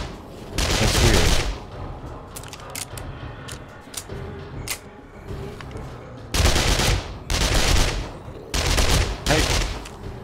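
Weapon fire against zombies in the game 7 Days to Die comes as long loud bursts of rapid shots separated by quieter stretches with clicks and mechanical noises, and a voice speaks briefly in between.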